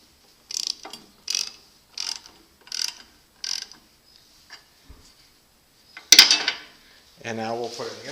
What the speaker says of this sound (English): before I get out the wrench